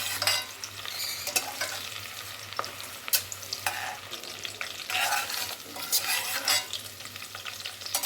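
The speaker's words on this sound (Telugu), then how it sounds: "ఇప్పుడు కట్ చేసి పెట్టుకున్న ఉల్లిపాయలు వేస్తున్నాను ఇవి బ్రౌన్ కలర్లో రావాలి బ్రౌన్ కలర్ వచ్చేదాకా వేయించాలి" Chopped onions frying and being stirred in a pan for chicken dum biryani, a steady sizzle broken by repeated scraping strokes of a spoon, close and fairly loud with no talk.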